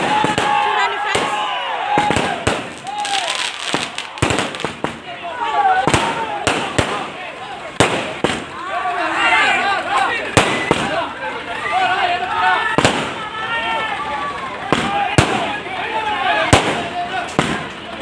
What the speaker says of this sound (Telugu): రంగులు రంగులు టపాసులు పెడతా ఉంటారు.